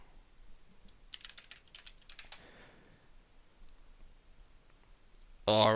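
Keystrokes on a computer keyboard enter a terminal command in a quiet room: a quick, faint run of clicks, then silence, ending with a brief louder sound.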